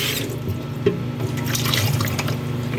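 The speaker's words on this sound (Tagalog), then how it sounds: "Because I gonna wash my tumbler." Water runs from a tap into a sink while a tumbler is washed, a steady close splashing stream with small knocks and drips.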